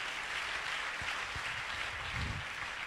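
A church congregation applauds in sustained, even clapping that fills the space, a dense wash of hands with a few louder claps standing out.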